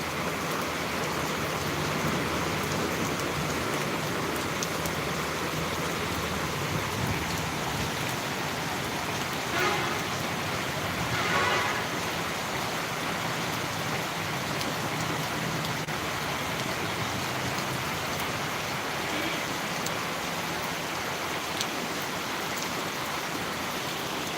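Steady heavy rain in Tirunelveli, India, patters and hisses evenly for the whole stretch, a soft continuous wash with no voices.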